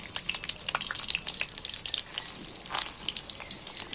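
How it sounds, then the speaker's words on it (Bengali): Potatoes sizzle and spit in hot oil in a wok, a dense, steady crackling hiss with scattered sharp pops, close and continuous with no talk. "এইবার আমি আলুগুলো তেলের মধ্যে তুলে দিচ্ছি।"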